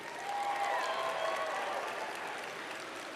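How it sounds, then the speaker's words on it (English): Graduates applaud their families, faculty and staff at a university convocation ceremony, a broad, sustained wash of clapping filling a large hall, swelling briefly then holding steady. "reciprocate by applauding your family and friends, faculty and staff"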